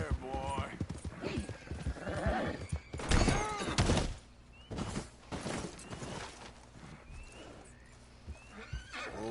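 A horse whinnies loudly with a long, shrill neigh mixed with hoof clatter and thumps, while a person speaks nearby.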